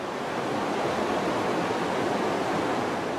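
Fast, heavy rapids of the Congo River close to the sea roar in a dense, steady broadband rush that stays loud and unbroken throughout.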